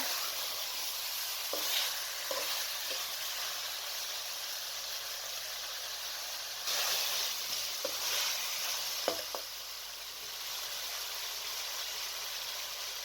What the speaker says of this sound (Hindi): आलू डालकर भी आपने 2 से 3 मिनट तक इन्हें अच्छी तरीके से भून लेना है।